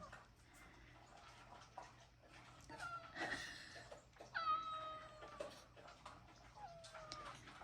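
A cat meows a few times close by, drawn-out cries with some faint rustling and background noise in between.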